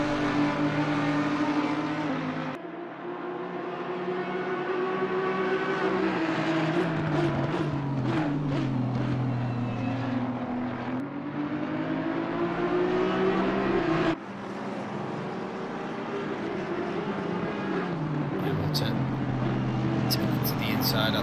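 Race cars, including an Aston Martin and an Audi, run at Catalunya in a sim racing game. Their engines whine and shift pitch continuously under steady race commentary.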